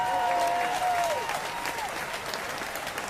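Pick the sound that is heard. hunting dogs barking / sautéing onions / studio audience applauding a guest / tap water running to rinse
studio audience applauding a guest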